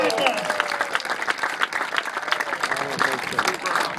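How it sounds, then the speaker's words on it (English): A crowd at an outdoor car show with an engine revving contest breaks into sustained applause and clapping, mixed with whistles and cheers, while people talk over it. "Let's give him a round of applause."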